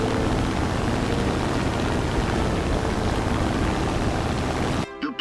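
Aircraft engine roaring at full throttle during a takeoff run in the combat flight game War Thunder, a loud steady broadband drone that cuts off abruptly near the end.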